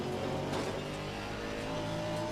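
A GT4 race car engine in Assetto Corsa Competizione drones steadily at high revs, a continuous buzzing exhaust note with slight pitch wobble through the short stretch.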